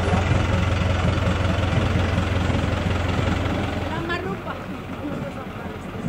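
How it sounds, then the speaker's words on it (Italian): A large modern engine on a parade float runs steadily at a Sfilata del Dono procession, a loud continuous drone under crowd noise and talk that eases slightly toward the end. "questo è un motore suo invece moderno, di quelli belli, grandi, importanti"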